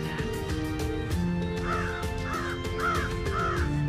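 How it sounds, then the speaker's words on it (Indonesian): Several crows caw in a row, four clear harsh calls repeating at a steady rhythm over a continuous background of music with a low droning bed. "Burung gagak."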